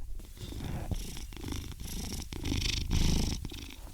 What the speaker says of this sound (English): Can you hear him purring right now?